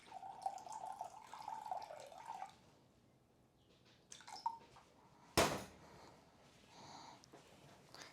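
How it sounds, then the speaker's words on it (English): Water poured from a tap into a measuring cup holding an egg in a kitchen, a thin trickling stream for a couple of seconds, then quiet handling noises, a sharp clatter and a bit more running water, close and fairly soft. "we're going to add water until we get up to the 3/4 cup measuring mark."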